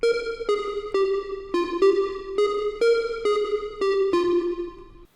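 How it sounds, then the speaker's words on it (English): A Baby Audio BA-1 retro pop analog synth plays a run of short, evenly spaced notes with its chorus effect on, each tone bright and slightly wavering, with no voices over them. "just so you can get a better idea of that chorus effect"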